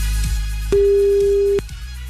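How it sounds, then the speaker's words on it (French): A steady single telephone line tone sounds for under a second during a call-in segment of a French morning radio show, cutting in sharply over a quiet background bed and stopping abruptly. "Attention, le téléphone va sonner, c'est peut-être le vôtre et là faut décrocher."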